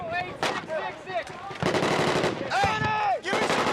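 Combat gunfire in Afghanistan: sharp, rapid shots and bursts crack out repeatedly across the whole stretch, loud and close, mixed with shouting voices and whistling, ringing tones.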